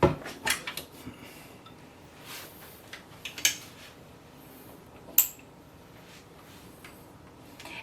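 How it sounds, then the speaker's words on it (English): A stand mixer is fitted into place for cinnamon roll dough, with scattered metallic clinks and knocks of parts and bowl, a few sharp close taps over a quiet kitchen background. "now let's go ahead and attach our mixer"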